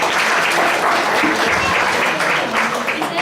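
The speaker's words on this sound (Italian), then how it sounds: "Facciamo un applauso anche al pubblico." A large theatre audience at an amateur company's annual play claps loudly and steadily, a thick, even wash of applause sustained throughout, with faint voices mixed in beneath it.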